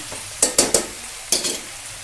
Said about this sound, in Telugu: ఇవి కూడా కొంచెంసేపు ఆయిల్లో మగ్గినాక నూనెలో ఉడికించి